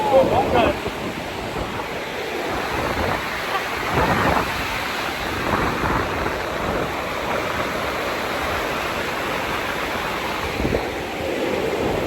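Ocean surf at a beach in Bali rumbles continuously with broad crashing swells and wind, a dense steady wash close to the microphone.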